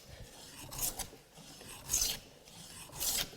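A hand plane trues the edge of a wooden billet in three long, rasping strokes, each a bright shaving swish separated by short pauses, close and fairly quiet.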